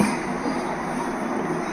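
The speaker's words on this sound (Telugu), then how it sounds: "ఇంకా ట్రైన్ వస్తుంది, చూస్తున్నారు కదా, ట్రైన్ వస్తుంది ఇప్పుడు." A train passes a railway level crossing with a loud, continuous rumble and rushing noise from start to finish, close by and without talk.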